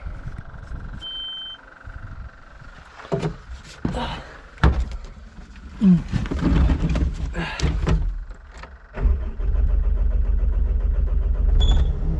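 A forestry mulcher's engine is started in cold weather, around 36 degrees. A few clunks and cranking bursts come first, then the engine catches and runs with a loud, steady, close-up rumble.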